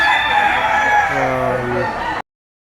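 A medium-sized rooster, around seven to eight months old, crows once in a long, loud, drawn-out call close by, against steady background noise, then it cuts off.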